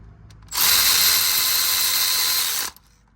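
A power ratchet snugs up bolts on a 2002 Ford Mustang GT during a water pump replacement, making a steady, loud mechanical whir that runs continuously for about two seconds, then cuts off abruptly.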